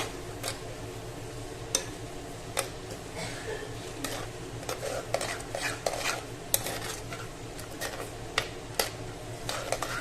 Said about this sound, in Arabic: بعد ما تسكبي السوداني خلطيه